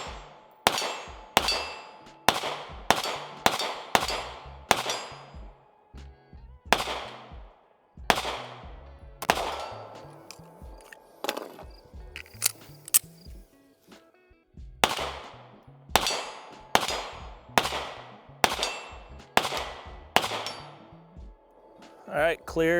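Rapid FN Reflex pistol shots ring off a steel plate array, each crack followed by a bright metallic clang, firing in quick strings with short pauses between bursts.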